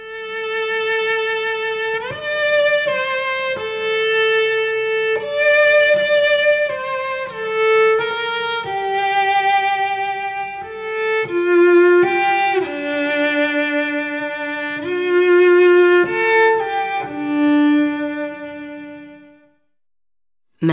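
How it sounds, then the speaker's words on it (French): Unmuted cello sings a slow, sustained melody from the second movement of Ravel's 1903 String Quartet, bowed notes gliding between pitches, clear and resonant, heard alone for about twenty seconds. "Voici le chant du violoncelle sans sourdine."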